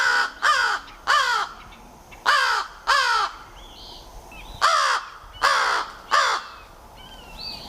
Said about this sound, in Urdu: کرو کی اس آواز کو تلاش کرنا شروع کر دیا جو وہ کسی خطرہ میں الرٹ کے طور پہ ساتھیوں کے لیے نکالتا ہے